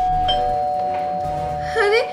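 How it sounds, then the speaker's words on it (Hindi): An electronic doorbell chimes with a sustained tone, followed by a brief rising ding near the end, fairly close and clear. "अरे लगता है घंटी बजी है"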